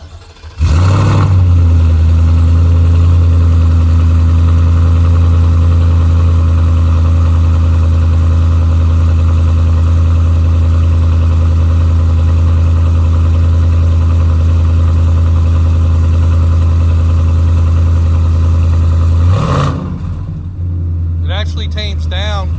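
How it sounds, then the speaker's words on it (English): A 2026 Ford F-150 fitted with a Stainless Works true dual exhaust starts up and settles into a loud, steady, deep rumble for nearly twenty seconds before cutting off abruptly. "We'll do a startup, a couple little revs, some high revs."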